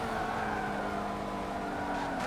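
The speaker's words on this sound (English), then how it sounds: "Look at that drift." A car drifting in Forza Motorsport 7, its engine droning steadily with a sustained tire skid layered over it, loud and continuous with no talk.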